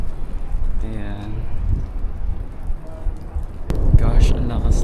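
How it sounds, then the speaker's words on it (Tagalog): Heavy rain falling outdoors during a Halloween evening in Osaka, a dense steady hiss close to the microphone with wind buffeting, and people talking over it. "ang lakas ng ulan"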